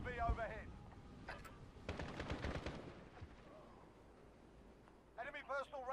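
Rapid automatic gunfire bursts in a Call of Duty Modern Warfare Domination match on Hackney Yard, a dense volley in the middle of the clip with a voice talking before and after.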